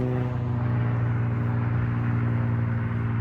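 A classic Nash Rambler car drives along a street, giving a steady, loud, low engine drone with a continuous rumbling hum that holds evenly throughout, with no voices.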